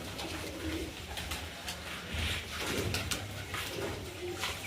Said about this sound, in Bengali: কিছু কালাঙ্কা পায়রা আছে